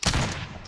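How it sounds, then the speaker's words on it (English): A short, loud burst of rapid gunfire from a shooter video game on the Caldera map, sharp and close, with the crack fading quickly. "they're shooting at me"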